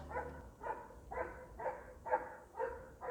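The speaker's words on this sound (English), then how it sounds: "I'm sorry, the dog is very loud." A dog barks repeatedly in a steady rhythm, six or so muffled woofs at moderate distance, heard from indoors over a low background rumble.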